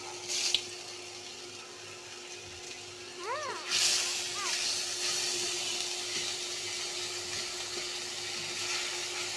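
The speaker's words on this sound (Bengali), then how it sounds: "এই যে আমি আবার তেলে পেঁয়াজ রসুন আদা বাটা দিয়ে দিলাম।" Onion, garlic and ginger paste drops into hot oil, bursting into a loud, close sizzle that keeps hissing steadily after a brief vocal sound.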